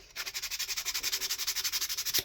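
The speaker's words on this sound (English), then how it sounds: "So we will give this a nice sanding down." Hand sanding of a plywood scroll saw cutout produces fast, even back-and-forth scratchy strokes, about a dozen per second, close and clear with no talking.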